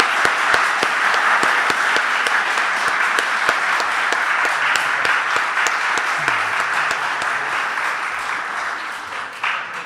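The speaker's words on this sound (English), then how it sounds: "so let's give them a round of applause." Sustained audience applause at a Stanford symposium, a dense, steady roar of many hands clapping that holds loud for nearly ten seconds before easing slightly at the end.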